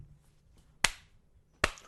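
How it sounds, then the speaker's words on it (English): A single person clapping in a courtroom-like room, two sharp, isolated claps spaced almost a second apart, close and clear against near silence. "Oh, shit, he's clapping."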